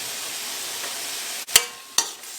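Diced tomato goes into hot oil, a steady sizzle followed by two sharp, loud bursts as the pieces hit the pan, close and without talk.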